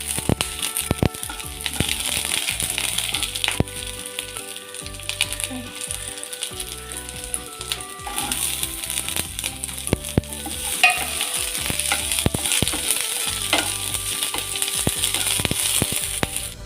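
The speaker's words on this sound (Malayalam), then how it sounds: "3 പച്ചമുളക് നീളത്തിലരിഞ്ഞത്, 2 തണ്ട് കറിവേപ്പില ഇട്ട് കൊടുക്കാം." Sliced green chillies, ginger and curry leaves frying in a pan, a steady loud sizzle with scattered clinks and scraping stirs throughout.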